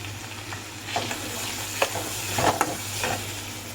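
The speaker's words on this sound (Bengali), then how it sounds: "ও মশলাটা দিয়ে দিলাম, মশলাটা একটু কষা কষা হয়ে গেলে তারপরে কচুরমুখিগুলো দেবো।" A spice paste of turmeric and Kashmiri chilli powder fries in a pan with a steady close sizzle, broken by several sharp spatula scrapes and clinks as it is stirred.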